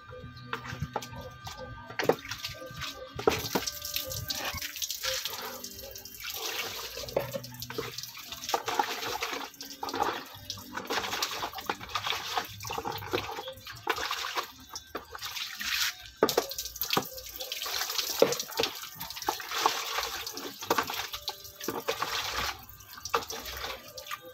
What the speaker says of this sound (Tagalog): Sabon ako guys ng aking kamay.